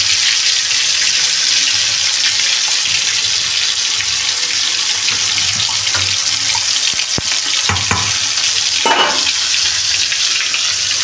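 Marinated chicken going into a hot kadai over a village-style fire sets off a steady, loud hiss and sizzle. Faint clatters and a few brief scraping stirs break through the hiss, and nobody speaks.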